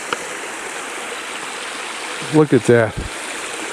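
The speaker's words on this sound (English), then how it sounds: "I just wanted to come this way to take a picture of the waterfall." Continuous rushing water from a waterfall and stream on a hiking trail, a steady broadband wash throughout, with someone briefly speaking over it near the end.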